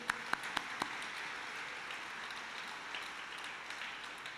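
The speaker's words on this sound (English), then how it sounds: "Well, applause for them, right?" Faint, steady applause from a graduation audience honoring parents and teachers, a soft broadband patter lasting throughout with a few sharper claps near the start.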